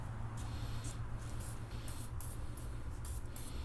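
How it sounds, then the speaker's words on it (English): Several short hissing bursts of oil sprayed from a can into a Nissan Sentra part, irregularly spaced, over a constant low hum. "I'm gonna get some oil, spray it in there and let it soak"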